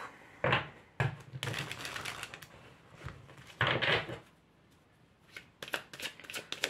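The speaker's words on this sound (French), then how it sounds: "Alors, je vais tirer une carte." Tarot cards shuffled by hand in several separate bursts of riffling and slapping, close and fairly quiet, with short pauses and a few light taps between.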